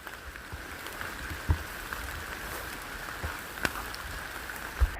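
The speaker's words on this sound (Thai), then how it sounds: "ฝนตกก็ไม่ยอม หยุด" Steady rain falls in a forest during mushroom hunting, a soft continuous patter with occasional louder drops striking nearby surfaces.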